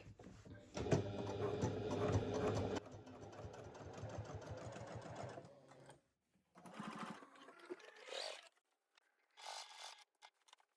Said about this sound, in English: And I'm just going to sew around the top of the bag.